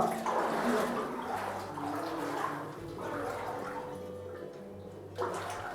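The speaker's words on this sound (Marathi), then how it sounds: "हे पाणी ना इथं येतंय" Water flows and gushes steadily nearby at the Jwala Narsimha temple, a continuous splashing rush with a slight surge near the end.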